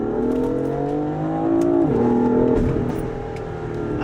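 Stage 2 tuned BMW F80 M3 engine pulling hard under acceleration, a loud steady drone that rises in pitch, dips briefly at a gear change, then climbs again, close and continuous with no talk.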